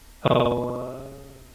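A single voiced utterance time-stretched with sliding window processing into a long, smeared tone with steady buzzy harmonics, slowly fading over about a second.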